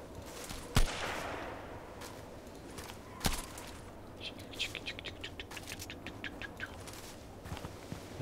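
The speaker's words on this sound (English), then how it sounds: "Already shooting at our lovely VIP guy." Gunshots in a multiplayer shooter match: a sharp close shot, a second one a few seconds later, then a quick run of lighter, more distant shots over a quiet background.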